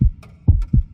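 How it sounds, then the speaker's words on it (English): Model heart giving a heartbeat sound effect: close, loud low thumps in a lub-dub rhythm, three beats within a second, with no talking. "It sounds like a human heart."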